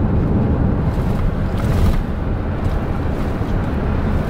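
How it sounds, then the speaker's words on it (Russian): Wind rushing past a moving car on a long road trip to the sea, a steady, loud, broadband roar that stays constant throughout with no voices. "она звука испугалась просто. Звук ветра."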